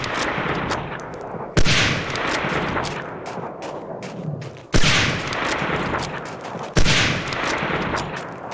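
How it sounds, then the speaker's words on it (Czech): Machine gun fire in the WWII shooter Medal of Honor: Allied Assault, dense sustained rattling bursts broken by three sharp loud blasts, close and loud throughout. "Tam už je kulomet."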